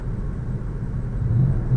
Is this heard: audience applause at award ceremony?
no